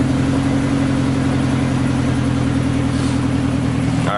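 A Nissan 240SX engine idles close up with a steady, throbbing low rumble that stays loud and even throughout, with no voices over it.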